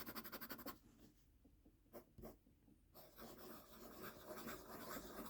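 Waterman Hemisphere fountain pen with a medium nib scribbling on paper: quiet, quick scratchy strokes in bursts, with short pauses between scribbles, close and alone.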